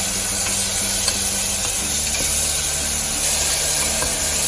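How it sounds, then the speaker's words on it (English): Garlic paste sautéing in a hot pan with green chilies and julienned ginger for a quick vegetable biryani, giving a loud, continuous sizzle and hiss with faint stirring scrapes. "Now I'm going to add in the garlic paste. Just saute it."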